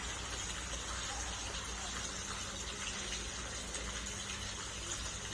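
Water gushes steadily into a fish pond in front of a house, a continuous broadband splashing rush that stays even and fairly faint throughout, with no talking.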